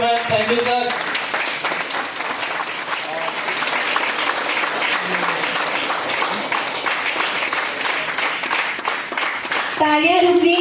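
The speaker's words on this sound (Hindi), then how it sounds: "तालियां रुकनी नहीं चाहिए" Sustained audience applause fills a pining ceremony hall in Bilaspur, Chhattisgarh, a dense steady roar of many hands clapping for about ten seconds, with brief voices at the start and end.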